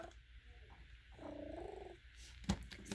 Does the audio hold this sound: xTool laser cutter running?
no